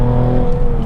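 A Nissan 370Z Nismo engine revs on a downshift, a loud, close, steady mechanical drone with strong low harmonics that holds throughout.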